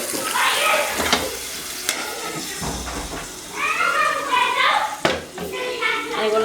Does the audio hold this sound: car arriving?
no